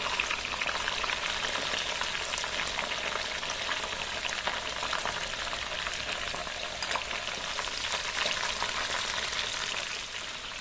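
Chicken pieces deep-fry in hot oil for a Malaysian nasi lemak fried chicken dish, giving a loud, steady, dense crackling sizzle with no voices.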